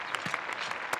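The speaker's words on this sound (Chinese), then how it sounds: "让我们以热烈的掌声欢迎我们的特殊功臣" Brief burst of applause from a group in a war film, honoring allied fighters; dense, crackling clapping heard close and fairly loud with no speech over it.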